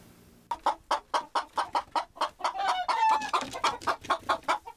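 Hens on a mountain farm in Gombaeryeong cluck in a quick, regular run of loud, close calls. The calls bunch into a busier flurry midway, then settle back to a steady rhythm.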